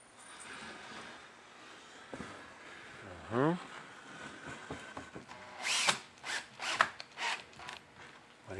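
A power drill drives screws into a wooden recycling organizer, with a brief rising whine followed by several short bursts of drilling amid background voices and handling noises.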